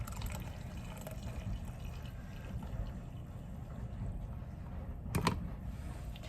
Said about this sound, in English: I'm gonna add some mushroom coffee here